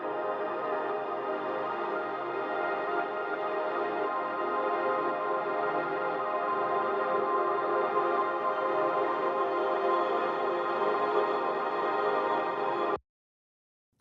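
Guitar run through reverse delay, bit crusher and butterfly reverb gives a dense, steady wash of processed tone that holds evenly for about thirteen seconds, then cuts off abruptly into silence.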